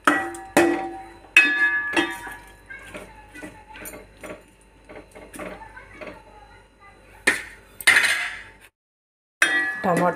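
Salt and turmeric stirred into a tomato curry in a pan, with sharp clinks and scrapes of a metal spoon against the pan coming in irregular bursts and quiet gaps between, while someone talks.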